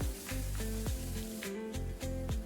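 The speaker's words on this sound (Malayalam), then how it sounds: "എല്ലാം കൂടി നന്നായിട്ടൊന്ന് വഴറ്റി കൊടുക്കാം" Chilli with ginger garlic paste sautés in a pan, giving a continuous soft sizzle beneath steady tonal background music.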